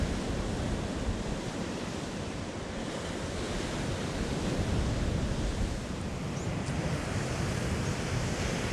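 Two-metre sea swells roll onto the Northumberland shore as a constant, loud roar of surf with wind buffeting the microphone, and no voices are heard.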